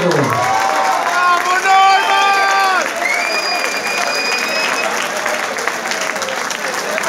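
Loud crowd applause with cheering from a live concert audience for a band, sustained dense clapping and whoops filling the whole stretch, with some shouted voices standing out early on.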